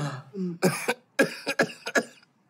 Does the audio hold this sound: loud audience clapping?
no